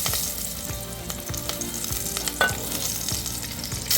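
Green chillies roasting and sizzling in hot oil in a pan, with a steady close crackle and occasional stirring scrapes throughout.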